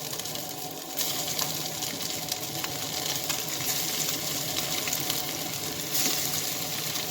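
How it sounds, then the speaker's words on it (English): Halibut fillets frying in hot oil in a cast iron pan, giving a steady, dense hiss that runs close and unbroken throughout with no talking. "Got that nice sizzle."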